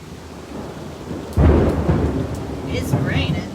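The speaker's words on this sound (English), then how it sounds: "It's raining." Rain falling outdoors with a sudden close thunderclap that booms and then rumbles on under the steady patter, with faint chirping sounds late on.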